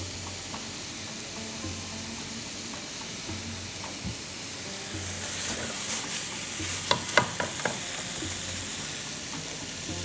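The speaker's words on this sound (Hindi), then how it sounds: "इसको हमने मिक्स कर लेना अच्छी तरह" Eggs, butter and salt are stirred together while a steady sizzling hiss from a nearby pan runs throughout, with a few soft clinks of utensils near the middle.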